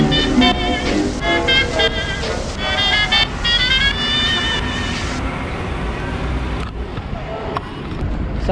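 A car driving along a road gives a steady broadband rumble of engine and tyre noise, with tonal, voice-like sounds over it in the first half before the road noise carries on alone.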